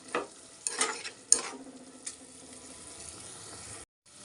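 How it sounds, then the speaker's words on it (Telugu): Ingredients for a brinjal and egg curry fry in a pan until their raw smell cooks off, with a soft sizzle broken by a few sharp scraping stirs before the sound cuts out. "పచ్చివాసన పోయేదాకా వేయించుకుందాం."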